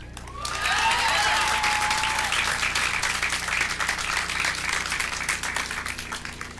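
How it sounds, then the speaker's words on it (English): Graduates at a high school graduation ceremony break into loud, sustained applause, a thick wash of many hands clapping from a large crowd, with a brief whistle near the start. "So let's give ourselves a round of applause for being the first class to have a normal graduation since this pandemic."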